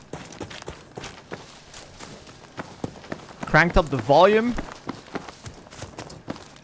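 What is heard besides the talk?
footsteps in Battlefield battle royale video game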